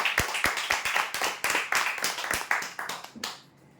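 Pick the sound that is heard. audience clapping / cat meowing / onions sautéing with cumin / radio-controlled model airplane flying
audience clapping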